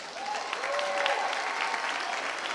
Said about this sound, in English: One more big round of applause for our officials